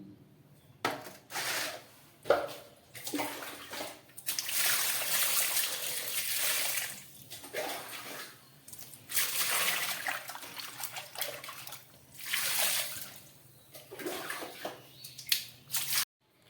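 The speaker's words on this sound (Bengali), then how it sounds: "এবার চলুন ভালো করে এটাকে ধুয়ে নিই" Cut fish pieces being washed by hand under water, with bursts of splashing and rubbing that start and stop over several seconds, close by and with no talking.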